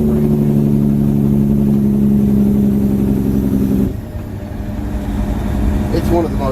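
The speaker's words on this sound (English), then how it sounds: "Jake brake. Oh, love me a Jake brake." A semi truck heading northbound on the highway engages its Jake brake, a loud, close, rapid throaty engine drone that holds for about four seconds before cutting away to quieter road and cab noise.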